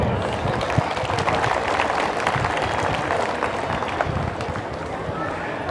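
An audience applauds teachers and a headmaster at a middle school function: a steady wash of many hands clapping for the whole stretch, with murmuring voices mixed in.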